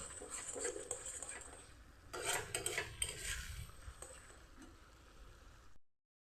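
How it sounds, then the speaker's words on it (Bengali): Spice paste fries in oil in a pan while a utensil stirs and scrapes against the metal, giving soft repeated clinks and scraping over a quiet sizzle that stops abruptly. "মশলাটা এইভাবে একটু কষিয়ে নেব।"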